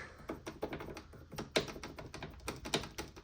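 A loose part on a Kawasaki ZZR1200 motorcycle rattles in quick, irregular tapping bursts, close and fairly quiet, with no talking.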